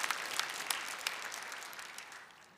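Congregational applause during a Korean Full Gospel church Sunday worship service, a dense wash of many hands clapping that gradually fades and thins over a couple of seconds, with no voices over it.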